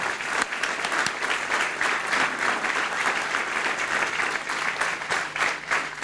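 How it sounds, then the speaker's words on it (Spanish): Sustained audience applause at a conference held at Expo Prado, steady dense clapping filling the room for several seconds with no talk over it. "Un fuerte aplauso para Scotsman."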